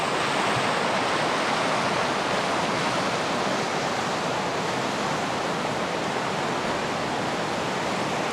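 Rushing water roars steadily and loudly throughout, a dense unbroken wash like a waterfall or fast stream heard up close, with no other sounds standing out.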